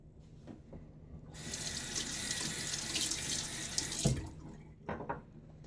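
Tap water running into a sink for rinsing during a wet shave, a close steady gush lasting a few seconds before cutting off, with faint handling knocks and splashes around it.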